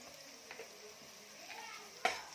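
Kolhapuri onion-garlic masala, four spoonfuls added to softened tomato, is frying in oil for a spicy mutton curry. A faint sizzle and stirring run throughout, then a sharp utensil clank near the end.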